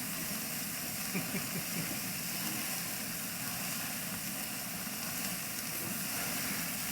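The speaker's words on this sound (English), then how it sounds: "A little bit of a grease fire going on here" Grease fire on a Masterbuilt 560 charcoal grill, a steady low hissing and crackling sizzle, faint and continuous with small pops, no talking.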